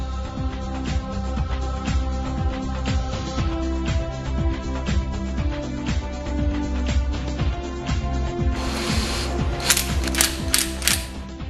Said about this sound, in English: Tighten all the bolts to the specified torque as shown